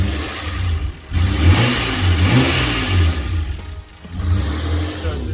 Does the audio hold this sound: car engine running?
yes